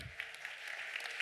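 Audience applause for a round-table moderator at a Spanish cultural heritage conference: steady, fairly faint clapping from a crowd across the whole stretch with no voices over it.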